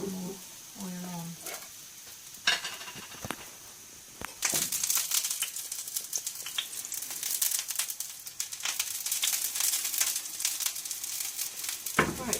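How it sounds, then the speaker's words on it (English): Banana slices fry in oil in a pan, a soft crackling sizzle joined by scraping and stirring clatter that grows busier and denser partway through, heard close up without talk. "Right, so I've got that sizzling."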